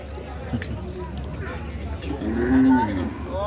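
Water buffalo (carabao) at a livestock market in Lemery, Batangas, with a cow lowing loudly near the end over the murmur of people talking nearby.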